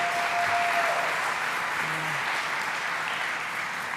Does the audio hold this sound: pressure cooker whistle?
no